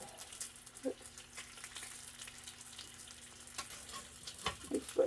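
Bacon frying in a pan gives a soft, steady sizzle throughout, fairly faint, with a few light clicks and clinks along the way.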